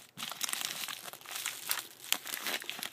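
Plastic packaging crinkles and crackles up close for a few seconds, with sharp rustling bursts and a faint tearing as the wrapper is worked open.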